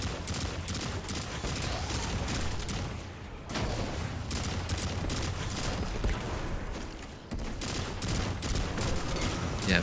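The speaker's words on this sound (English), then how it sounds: "look at those explosions" Dense, continuous video game gunfire and explosions rattle on without pause, a loud clattering barrage with a brief dip in the middle.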